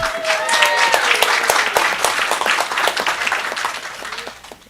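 Board meeting audience applauding in a school district meeting room, dense steady clapping throughout with faint voices and a whistle-like tone mixed in, tapering off at the end.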